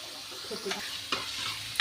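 Garlic and ginger are stirred into onions frying in a pan, giving a soft steady sizzle with a few crisp utensil scrapes and taps nearby, no talking.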